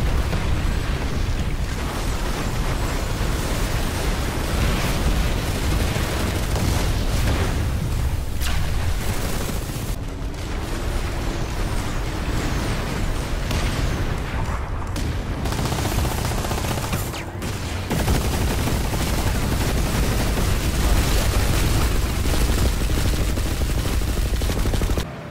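Dense Planetside 2 battle noise rolls on without a break: overlapping automatic gunfire, booming explosions and rumbling blasts layered into one loud, steady wall of combat sound.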